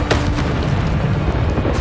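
A Bombarda explosion spell in the video game Hogwarts Legacy: a loud, deep boom that rumbles continuously through the short moment, heavy in low end.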